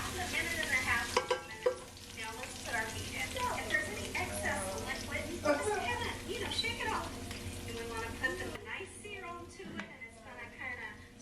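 Beef for pepper steak sizzling and frying in a pot with browned garlic, a steady crackle under stirring, while a person talks over it throughout.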